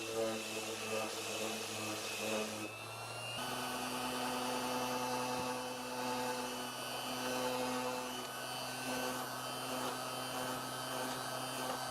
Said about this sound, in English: coming in afterward with a random orbital sander to even out the carve